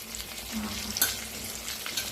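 Green chillies frying with masala in a pan, stirred with a soft steady sizzle and a brief scrape of the spoon midway, fairly quiet and with no voices.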